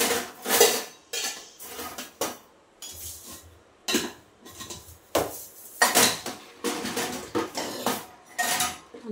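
Small metal containers clank and clink as they are set down one after another into a kitchen trolley, a string of close, irregular metallic knocks with short pauses between, no talking.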